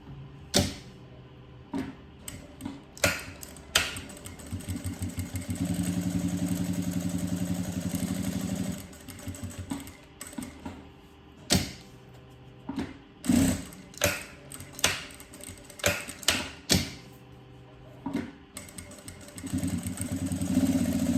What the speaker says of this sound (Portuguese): nós vamos passar uma costura bem bonita aqui, uma de cada lado